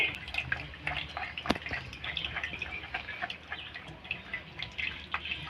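Water trickling and dripping from freshly grated potatoes as they are strained in a home kitchen, a faint, irregular patter of small drops and light splashes.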